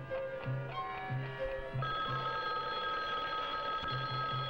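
A phone or alarm clock rings in a film scene, a repeated electronic ringing pattern with steady tonal bursts that continues throughout.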